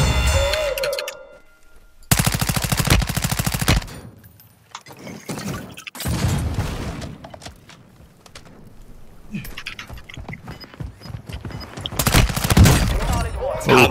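Bursts of automatic gunfire in a Warzone 2 gulag fight, a loud video game firefight with dense rapid volleys broken by short gaps, plus a few single shots and clatter, with voices talking over it.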